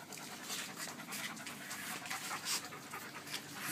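Frightened dogs pant during a thunderstorm, a steady, fairly close run of quick breathy huffs that fills the whole stretch, with no talk over it.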